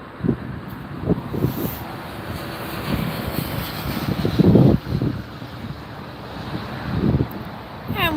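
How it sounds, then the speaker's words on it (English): Gusty wind blowing outdoors at LAX airport, buffeting the microphone in uneven bursts over a low distant rumble of aircraft, with brief muffled voices now and then. "The breeze is on the move."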